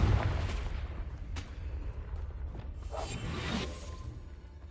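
The Confringo fire spell cast in Hogwarts Legacy, a sustained whooshing, mechanical burst with low rumble throughout, moderately loud and without talk.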